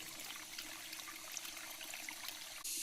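A forest stream runs faintly and steadily while water is scooped up with a leaf, giving a soft continuous trickle that shifts abruptly just before the end.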